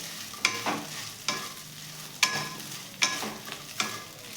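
Chicken keema paste stirred into fried onions in a pan, with five or six sharp spatula scrapes at an uneven rhythm over a low sizzle.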